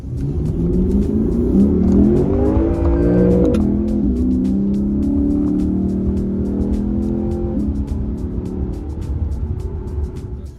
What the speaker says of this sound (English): I'm going to put a clip of the intake sound.